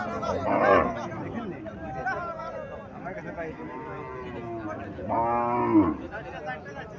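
At a cattle market a cow, among desi and Sahiwal cattle, gives loud drawn-out moos at the start and again near the end while people chatter and talk around it.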